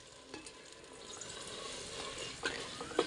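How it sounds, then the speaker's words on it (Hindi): Steady sizzling of spice paste frying in a pan for a potato and bean dish, with soft stirring scrapes and a few small pops near the end. "इस मसाले को अच्छे तरीके से भून लेंगे"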